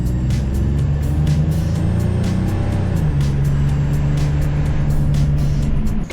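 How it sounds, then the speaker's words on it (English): A Pontiac Grand Am exhaust with an SLP Camaro muffler, a deep, rumbling idle that revs up partway through, then settles into a steady low throb, close by and continuous. "The exhaust we just put on, it's an SLP Camaro muffler."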